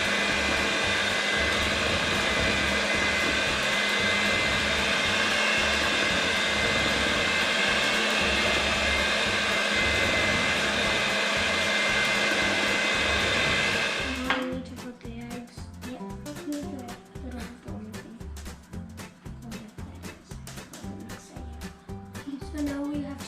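Electric mixer beating cupcake batter on speed 2, a loud steady whirring hum for about fourteen seconds, then a rougher, fluttering motor sound with clatter as the mixing continues up close.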